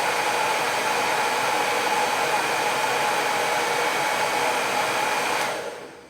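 Hair dryer fitted with a diffuser running steadily on a medium-low heat setting, a loud constant whoosh and whine that cuts off near the end.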